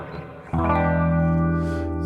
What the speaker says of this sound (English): Gives you this really wobbling, psychedelic, classic rock sound.